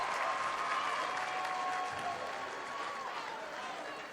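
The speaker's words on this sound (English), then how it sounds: "Tipton's crowd gets loud" A high school basketball crowd at a Tipton boys' game roars and claps loudly after a shot, with a dense, steady wash of noise that eases slightly toward the end.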